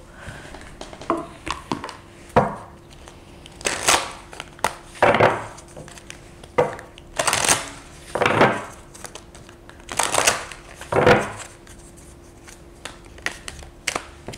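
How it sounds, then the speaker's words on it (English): Oracle cards shuffled by hand in a series of soft, papery riffling bursts, each lasting under a second, repeated at irregular intervals close to the microphone with no talking. "I'll pull oracle cards"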